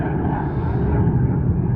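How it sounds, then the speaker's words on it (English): An airplane passes overhead above the River Nene, a steady, broad droning roar that holds at an even loudness for the whole stretch, with no voices. "How come you always see the plane and then you hear it"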